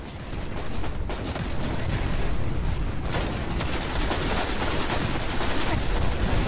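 Rocket fire and explosions in a video game, a dense, continuous roar of blasts and gunfire layered over each other at steady loudness throughout, with no clear gaps between shots.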